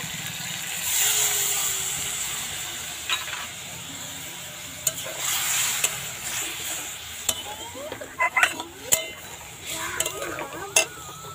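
Steady sizzling in a hot pan of ridge gourd with poppy seed paste, with a burst of hissing as a little water hits it, followed by scattered clinks and scraping of a utensil.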